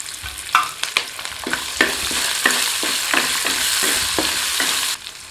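Cut ginger, cashews, curry leaves and green chilies fry in hot oil for green citron rice, a steady close sizzle punctuated by regular spatula scrapes and taps roughly every half second, with no talk.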